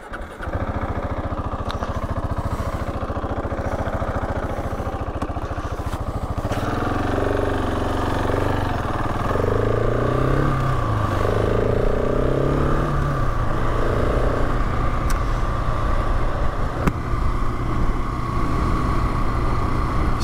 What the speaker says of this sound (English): I shall jump back on the bike